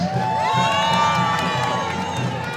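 An audience at an Israel and Palestine protest event at LSE in London cheers loudly to welcome a speaker to the stage, a dense wash of shouts, whoops and high-pitched yells with scattered claps, sustained throughout.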